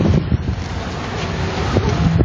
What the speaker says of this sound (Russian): Притом дождь, очень сильный ливень, вот, и ветер.